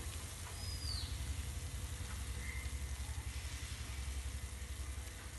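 Onion masala with turmeric sautéing in a pan for a sardine fry with tomato and shallots: a faint, steady sizzle with soft stirring scrapes, continuous and close, no voices.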